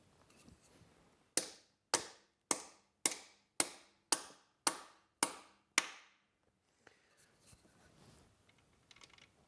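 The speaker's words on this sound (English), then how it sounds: "hit the top of the tool with a hammer, and it's going to drive those two little tabs down and lock the threads in." A hammer strikes the top of a thread repair tool set in a broken EGR bolt hole on a 6.7 Powerstroke engine. Nine crisp, ringing metallic blows land at an even pace, then a quiet workshop follows.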